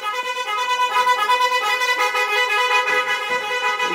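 A horn brought along for wedding shopping blares in a steady, continuous tone with rapid pulsing warble, loud and close, with no voices over it.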